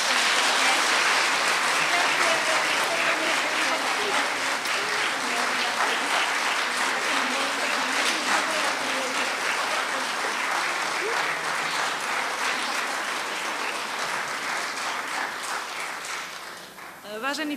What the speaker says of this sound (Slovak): Prosím, veľký potlesk.